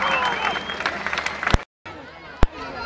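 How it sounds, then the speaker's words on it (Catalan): A crowd applauds the Muixeranga de València at a 2010 human-tower performance in Valencia, a busy wash of clapping and voices that drops out briefly and ends with a sharp single clap-like hit. "Un fort aplaudiment a Muixeranga de València."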